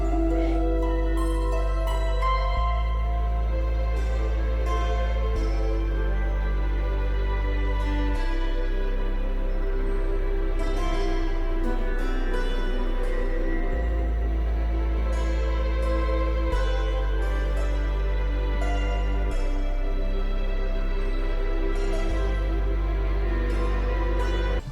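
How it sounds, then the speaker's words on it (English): Ambient exploration game soundtrack music: sustained pads over a deep bass line that shifts every few seconds, with soft melodic notes above, playing continuously and evenly without any voice. "It's ambient exploration soundtrack."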